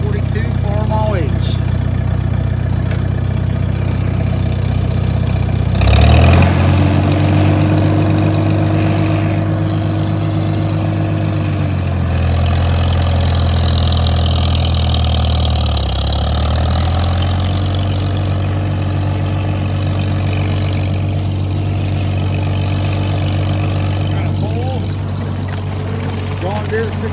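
A 1942 Farmall H tractor engine runs steadily at close range, a loud low throbbing idle that revs up briefly around the middle and settles again, with no talk over it.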